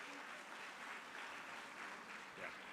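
Audience applause fills a convocation ceremony hall, a steady wash of clapping from a crowd that holds at an even, moderate level for a few seconds.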